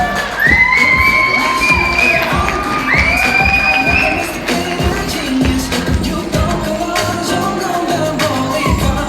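A gala audience at a fundraising event cheers loudly with high whoops and shouts over clapping, a crowded roar that stays strong throughout.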